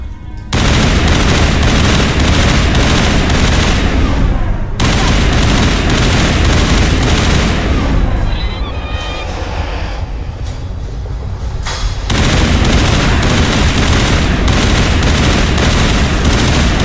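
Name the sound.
gunfire in Mass Effect video game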